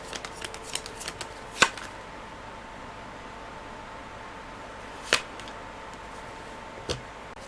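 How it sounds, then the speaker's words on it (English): Tarot cards being shuffled, quiet soft riffling and rustling in short bursts with a few sharper snaps of the deck, close and alone with no voice. "I have to draw one more card"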